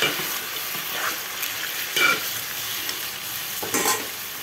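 Half a kilo of washed chicken frying in a pan, a loud steady sizzle broken by scraping stirs of a spoon against the metal, close up, with no talk.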